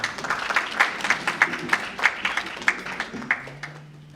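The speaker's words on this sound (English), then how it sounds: "Another round of applause for the product development" An audience claps at a Uganda diaspora business expo breakfast, a thin, uneven patter of hand claps from a modest crowd that fades out near the end as a low hum remains.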